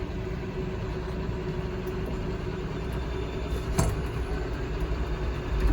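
Farm tractor idles steadily while hitched through a dolly to a loaded bale trailer, a low continuous rumble with light vibration and one brief clank partway through, close and alone.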